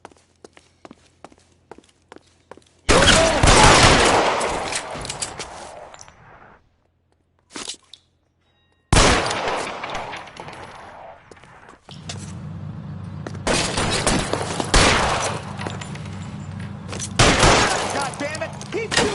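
Gunfire shootout in LA Noire, loud broadband shots in bursts and stretches separated by brief silences, with footsteps and running in the mix.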